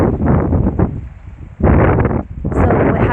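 Strong wind buffeting outdoors in loud, roaring gusts that rise and drop in waves, close and rumbling against the microphone, with no talking.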